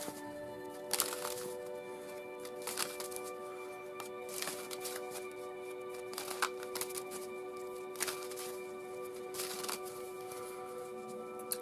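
Cards riffle-shuffled several times in quick bursts, crisp fluttering rattles at close range, with short pauses between shuffles and no talking.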